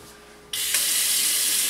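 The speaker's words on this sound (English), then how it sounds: "So you want to wash it off with some water." Running tap water suddenly gushes on and splashes steadily as raw shrimp are rinsed under the faucet, close and continuous with no voices.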